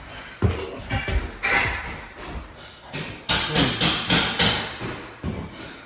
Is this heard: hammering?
yes